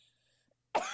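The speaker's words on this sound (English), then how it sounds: "That's a cough." One short, sharp cough bursts out abruptly at the end after near silence.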